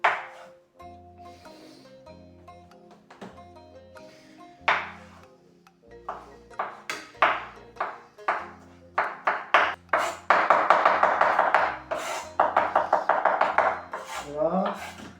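A knife chops pickles on a cutting board in a home kitchen, a run of sharp, rapid knocks that grow denser and louder toward the end, with faint kitchen clatter before.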